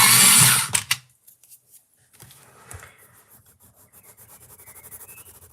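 A beige colored pencil being sharpened: a short, loud grinding burst for about a second, then fading to faint scraping and near-quiet.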